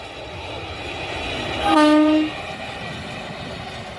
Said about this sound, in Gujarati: જો રેલનું એન્જિન આવી રહેલ છે. વીજળી ટ્રેન છે